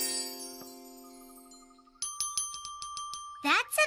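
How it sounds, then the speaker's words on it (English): A small bell rings once with a long fading shimmer, then several quick dings follow, and a voice speaks briefly at the end. "That's a nice little bell."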